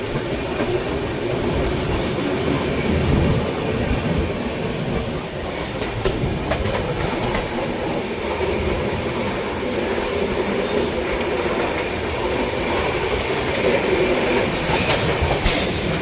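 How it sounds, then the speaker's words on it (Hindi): The Punjab Mail passenger train departs Lalitpur Junction with a continuous, close rumble of rolling coaches, rhythmic wheel clatter over the rails and a brief high squeal near the end. "अभी अपनी ट्रेन का डिपार्चर हो रहा है ललितपुर जंक्शन से"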